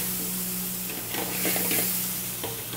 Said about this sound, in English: And we saute it like that.